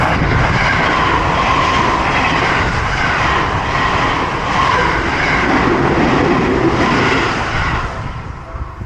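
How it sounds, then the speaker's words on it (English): A train in Japan rumbles past nearby, a loud continuous roar and clatter that holds steady before starting to fade at the end. "Bro, I love trains."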